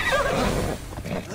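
A horse whinnies in the video game Immortals Fenyx Rising, a loud, bright neigh over the first second that trails off into quieter game ambience.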